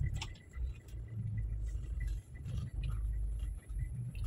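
A steady, low diesel engine rumble from a Toyota Kijang LGX idles continuously after a tune-up, with faint mechanical ticking on top and no voices.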